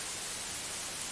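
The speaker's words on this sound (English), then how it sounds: "And then we have white noise." White noise from a synthesizer oscillator in FL Studio, a steady, bright, even hiss held at constant loudness with no other sounds.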